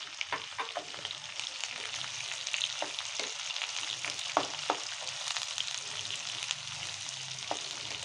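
Onions fry in a pan for a village-style okra curry with green chillies, a steady close sizzle and crackle with scattered spoon scrapes and taps.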